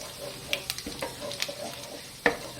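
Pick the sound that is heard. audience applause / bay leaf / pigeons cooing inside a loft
bay leaf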